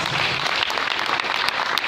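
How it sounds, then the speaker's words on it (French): An audience at a religious lecture on Mary claps in sustained, dense applause, loud and close, with no pauses. "J'espère que nous allons encore renouveler les applaudissements"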